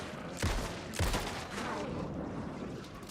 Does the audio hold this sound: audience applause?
no